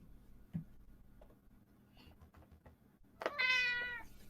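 Cat meowing in the video game Aviary Attorney, heard as a single clear, rising meow near the end, after quiet background ambience with a few faint ticks.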